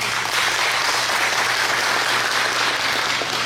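An audience at a church sermon claps together in a dense, sustained burst of applause, loud and close, filling the whole moment without any talking over it.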